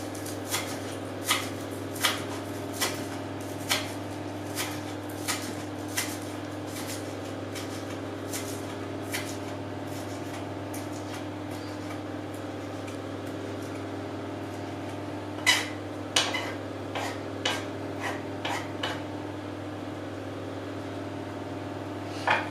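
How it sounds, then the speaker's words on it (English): A knife chops chives on a cutting board in a steady series of crisp taps. The taps pause, then resume in a short quicker burst, over a constant low kitchen hum. "Chop these up."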